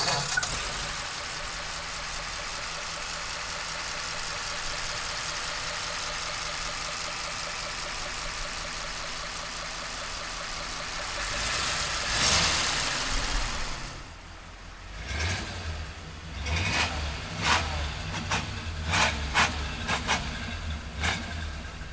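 A 1934 Ford Cabriolet's 85-horsepower flathead V8 runs with a steady, even hum that swells once, then changes to a lower, rumbling drive with bumps and rattles from the road.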